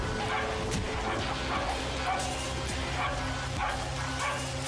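A dog barks and yips repeatedly in short, uneven bursts, fairly close and loud, with whimpering sounds between barks.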